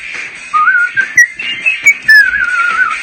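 A person whistles a short, wavering tune up close, with breathy, uneven notes broken by brief gaps and no voices.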